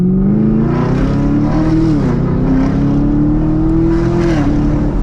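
A car with an NPP active exhaust cruises on the road, its engine a loud, continuous low droning rumble rising gently in pitch with speed, dipping briefly at a shift, heard from inside the cabin with no talking.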